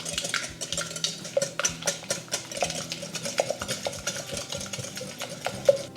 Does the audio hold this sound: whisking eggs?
yes